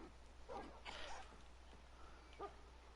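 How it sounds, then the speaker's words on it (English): Dog-like wolf in a video game: short yips and whimpering barks in a few brief bursts at moderate volume over a steady low hum, with no speech. "I think that's just a variant of wolf."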